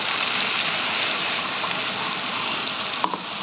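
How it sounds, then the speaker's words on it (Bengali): Broth is poured into a fried spice mix for chhana kofta curry, producing a continuous gushing, splashing pour with a faint sizzle that holds steady for a few seconds, ending with a small clink. "এবার আমি ঝোলটা দিয়ে দেবো"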